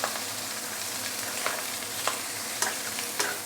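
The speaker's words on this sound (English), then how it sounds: "Very quickly, you will start seeing the veggie started to shrink." Vegetables stir-fried in a wok for fried noodles with roast pork, a steady hiss of sizzling oil broken by several sharp scraping clicks of the spatula, close and alone.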